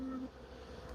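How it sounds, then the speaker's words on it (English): Honey bees in an open hive colony, with their frames filling up, give off a soft, steady, close buzzing hum that carries faint background noise. "As you can see, the bees are filling all the frames,"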